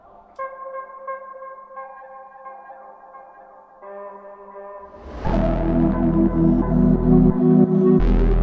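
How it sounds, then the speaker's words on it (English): Dark trap beat produced in FL Studio with a vocal chop sample: a sustained, hollow tonal chop rings out alone at first, then heavy booming bass and beat elements enter, loud and dense. "Final thing I'm gonna add is just another simple vocal chop"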